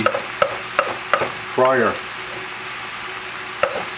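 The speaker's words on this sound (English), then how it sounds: "While that's sautéing, I'm chopping the parsley" Food sautéing in a pan while parsley is chopped nearby, in a kitchen preparing fresh eel; steady low sizzle under a few sharp knife or utensil taps and a brief scraping stir.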